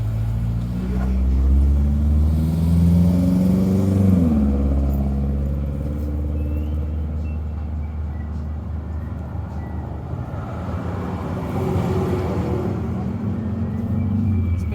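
Busy street with cars passing by, heard as a steady low rumble of engines and tyres that swells and eases over the span, fairly close and continuous with no clear talk.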